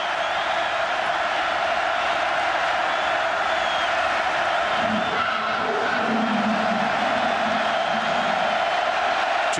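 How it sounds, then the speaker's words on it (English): Fans at a Penn State home football game against Ohio State in 2005, a night whiteout game, keep up a loud, steady roar of stadium noise with a faint voice emerging midway. "this crowd is really making some noise now"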